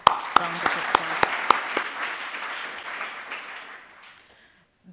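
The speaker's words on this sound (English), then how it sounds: "let's give him a louder round of applause." Audience applause after a keynote lecture at an education conference: a few loud close claps over a broader wash of clapping that thins out and fades to near silence within about four seconds.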